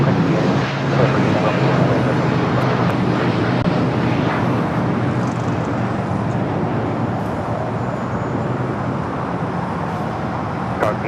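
Cathay 85 Heavy airliner on its takeoff roll from runway 25 right at LAX, a steady, loud jet roar that holds throughout with little change in level.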